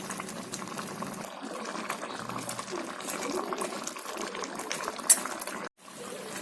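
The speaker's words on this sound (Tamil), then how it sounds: "அது வரைக்கும் அது கொதிக்கட்டும்." Homemade tomato jam boils in a pot, a dense continuous bubbling and sputtering that stays steady and close before briefly cutting out near the end.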